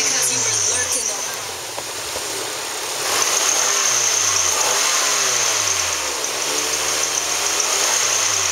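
A Kia Optima engine idles and revs steadily at a salvage yard, a continuous mid-pitched hum with rising and falling swells and a louder stretch midway, close and clear throughout.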